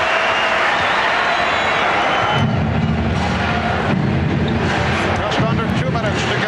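Basketball arena crowd at the 1993 NBA Finals in Chicago, a loud, sustained roar of voices rising in the middle with a commentator talking over it.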